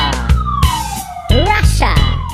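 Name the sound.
Russian police car siren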